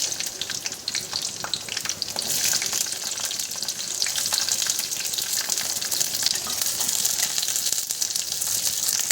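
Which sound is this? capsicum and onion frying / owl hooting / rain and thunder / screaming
capsicum and onion frying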